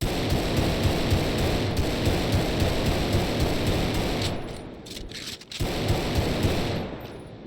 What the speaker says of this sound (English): let me use a normal pistol. Glock 17.